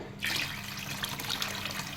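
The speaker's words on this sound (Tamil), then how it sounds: "அதுக்கப்புறம் நான் இன்னும் ஒரு 1/2 தண்ணி ஊற்றிக்கிறேன்" Water poured from a vessel onto raw Ponni rice in a pot while making tomato rice, a steady close splashing flow that starts sharply and continues evenly without pause.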